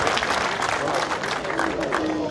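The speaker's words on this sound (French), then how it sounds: "Les applaudissements qui descendent des travées." Spectators at a pétanque match applaud, a dense continuous wash of clapping from the stands, with a commentator talking over it.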